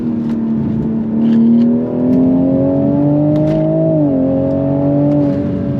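Mk5 Toyota Supra engine accelerating hard through second gear, a steady rising drone that climbs in pitch, dips briefly at a shift or lift, then pulls on, loud and close with no talk over it.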